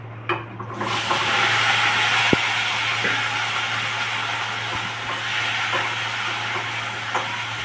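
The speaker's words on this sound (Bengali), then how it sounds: "এবার আমি এই আলুটা ভাজবো।" Potato pieces fry in hot oil in a home kitchen, giving a continuous close sizzle and hiss beneath a steady low hum, with a few faint clicks and no speech.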